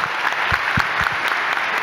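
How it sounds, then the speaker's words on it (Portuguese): A crowd applauds steadily, a dense wash of clapping with a few sharper individual claps standing out nearby. "Eu quero uma salva de palmas para essa pergunta."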